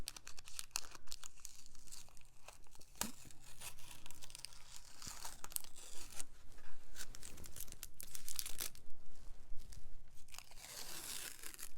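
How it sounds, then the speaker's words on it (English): Tape peels off paper and a cardboard backing after a watercolor snowman painting, giving close, faint tearing and crinkling sounds in irregular rips and crackles throughout. "then we just take the tape up"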